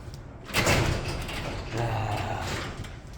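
Garage door with a screen door, near a belt grinder setup, banging and rattling in two heavy bursts about a second apart, each trailing off into a low rumble.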